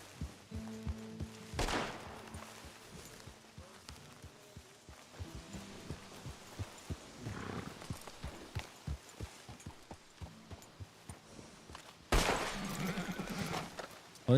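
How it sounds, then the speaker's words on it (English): Gunfire in a video game: bursts of shots and sharp impacts, with a heavy volley near the start and another loud barrage toward the end, separated by scattered quieter shots and rhythmic thumps. "Why are you shooting it?"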